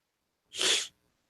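A single sharp sneeze bursts out once, close and fairly loud, then silence.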